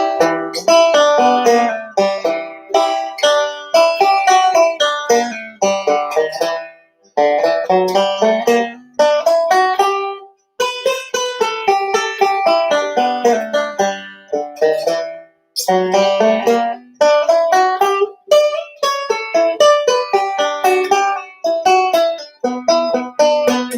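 Guitar plays the B section solo of Blackberry Blossom as a quick, bright run of plucked single notes, played alone with brief pauses between phrases.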